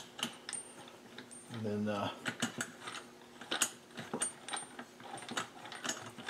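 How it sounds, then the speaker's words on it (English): A puller is threaded onto the crankshaft end of a Husqvarna 372 chainsaw, with close metallic clicks, ratcheting and small tool clinks coming in quick irregular bursts, plus a short low rumble early on and a brief spoken word. "I just basically thread it onto the end of the crank, like so"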